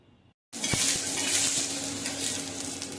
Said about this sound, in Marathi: आता हे ना हे सर्व मी भाजून घेते